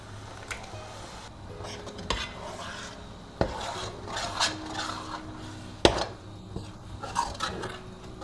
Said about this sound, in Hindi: अब टमाटर को भी इतनी अच्छी तरह से भूनेंगे जब मसाले से पूरा तेल निकलना चाहिए।